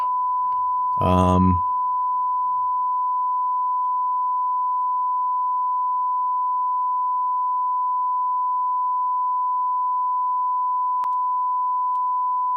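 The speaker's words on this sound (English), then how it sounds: "Let's do a sine wave." A steady, pure electronic tone hums continuously for the whole stretch, interrupted early by a brief loud burst and later by a faint click.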